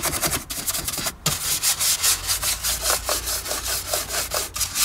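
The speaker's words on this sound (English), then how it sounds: "Just use the brush to get in those edges." A brush dabbed with Armor All scrubs into the crevices of a car interior, a close, rapid back-and-forth rasping with an uneven rhythm.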